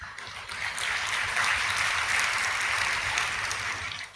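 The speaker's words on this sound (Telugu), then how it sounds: "చప్పట్లు కొట్టారు" A church congregation claps during a sermon, a dense and steady round of applause from many hands that swells, holds and then fades.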